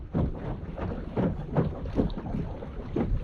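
A Minn Kota Endura MAX trolling motor runs at full speed on a small boat heading into the wind, giving a steady close whir under gusty wind buffeting and water noise, with no talk.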